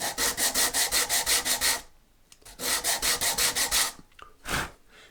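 Quick rhythmic sanding strokes rub across the wooden fretboard of a Stratocaster build during fret work, two bursts of about eight even passes each, then a single final stroke, close and loud.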